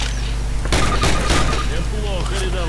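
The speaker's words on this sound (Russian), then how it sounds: "Сделай еще 3 выстрела по мишени" Several gunshots fired at a shooting-range target in Call of Duty, loud sharp cracks in a quick cluster early on, followed by ringing tails and a low steady drone.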